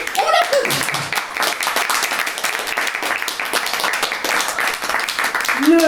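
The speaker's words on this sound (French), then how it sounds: "on l'applaudit" Audience applause at a corporate event, a brisk, close crowd of hands clapping steadily throughout with a few brief voices and cheers mixed in.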